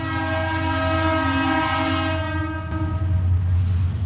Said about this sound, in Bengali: ঢাকা থেকে একটি ময়মনসিংহ অঞ্চলের দিকে যাওয়ার জন্য একটি ট্রেন যাচ্ছে উত্তর দিকে